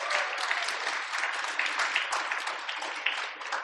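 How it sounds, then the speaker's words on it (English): A university audience gives a speaker a round of applause, dense and continuous clapping from a large crowd, steady in level with a slight fade at the end. "Please give a round of applause for Dr."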